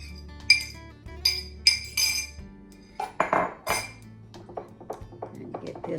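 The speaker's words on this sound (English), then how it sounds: "And get this all mixed up real well" Sweet potato casserole mixture being stirred with beaten eggs in a dish, repeated close clinks and taps of a utensil against the dish in an uneven rhythm, with a voice speaking briefly under the clatter.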